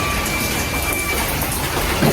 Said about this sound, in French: il pleut des cordes